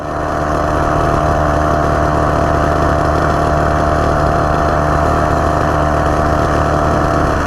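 Two-wheeler engine running steadily near a highway toll gate, a loud continuous close drone with constant mechanical buzz throughout.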